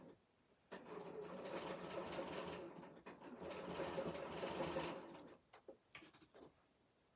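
A BERNINA sewing machine stitching with a double needle runs in two steady whirring bursts of a few seconds each, close and fairly quiet, followed by a few short clicks and taps, with no voices.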